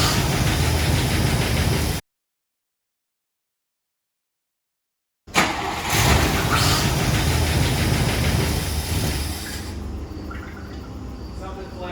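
An old barn-find car engine runs steadily and loudly, its broadband rumble filling the scene apart from a brief silent gap, with a rougher, knocking texture underneath.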